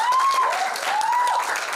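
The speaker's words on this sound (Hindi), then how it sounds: "एक बार जोरदार तालियां प्लीज" Audience applause at a song launch event, a dense burst of clapping, loud and continuous, with a faint tonal whistle-like sound over it.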